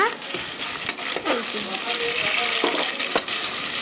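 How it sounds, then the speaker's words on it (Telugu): Goat head curry sizzling in a pot while a ladle stirs it, a constant dense hiss with occasional scraping knocks, close and loud, with faint voices mixed in. "ఇప్పుడు మంచిగా గరిట పెట్టి కలుపుకున్నాం అనుకోండి"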